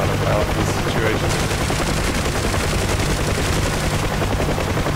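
A door gun fires from a UH-1 Huey helicopter in the DCS combat simulator, rapid continuous bursts over the heavy drone of the rotor and engine, loud and close throughout.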